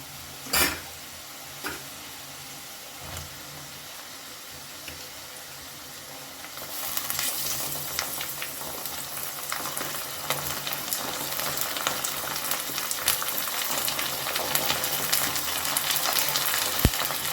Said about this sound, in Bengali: পেঁয়াজ হালকা ব্রাউন হয়েছে এবার এর মধ্যে আমি দিয়ে দেব ধুয়ে রাখা মাটন